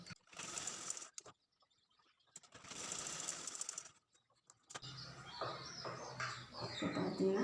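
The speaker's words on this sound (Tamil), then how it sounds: "எப்போவுமே 2 தையல் போட்டுக்கோங்க" A sewing machine stitches a lined blouse in short runs of steady mechanical whirring, separated by brief pauses, with faint background noise and birds chirping.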